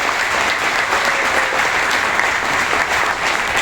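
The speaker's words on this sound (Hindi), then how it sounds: "थोड़ा सा हंस के, मुस्कुरा के, अपनी तालियों के साथ अपने आप को एनर्जेटिक रखना है।" An audience at a motivational seminar breaks into steady, dense applause, a loud, even wash of many hands clapping together without pause and with no speech over it.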